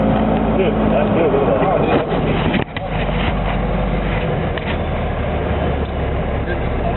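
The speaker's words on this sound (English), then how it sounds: "Driving in a sandstorm." A military amphibious assault vehicle drives through sand in a sandstorm, its loud engine roaring steadily with wind noise and a brief dip partway through.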